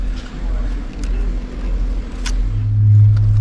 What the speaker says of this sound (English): Basically it idles nicely without any choke